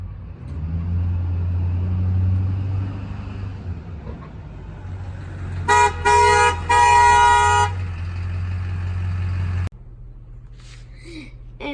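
A car horn honks three times in quick succession, two short toots followed by a longer blast, loud over a steady low engine rumble that drops away near the end.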